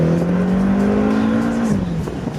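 A BMW F10 M5 with a double clutch transmission accelerates hard, its engine note climbing loudly and close, then dropping briefly as it shifts before pulling on.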